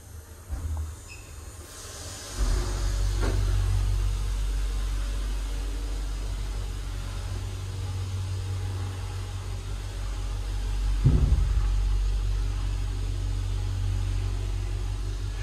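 A modernised Kleemann lift in Norwich Cathedral hums steadily as its motor drives the car upward, a low continuous drone with a brief surge near the start and a soft thump partway through.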